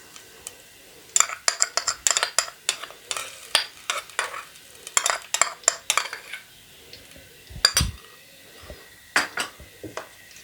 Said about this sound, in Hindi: इन्हें हल्का सा फ्राई करेंगे।